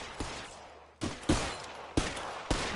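Rapid bursts of gunfire from the VR video game L.A. Noire, several sharp shots at irregular intervals, loud and close, with no talk over them.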